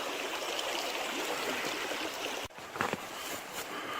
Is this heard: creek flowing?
yes